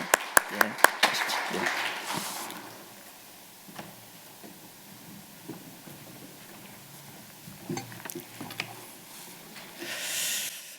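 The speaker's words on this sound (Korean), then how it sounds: "일어나실 때 우리 환영하면서 박수 한번 하십시다" A church congregation at a Wednesday service claps to welcome a guest pastor, giving a short burst of applause at the start that fades into room noise with speech, and a little more clapping near the end.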